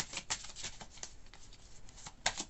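A deck of oracle cards is shuffled close up, giving a quick run of soft papery riffles and flicks, faint and rhythmic, ending with a sharper snap.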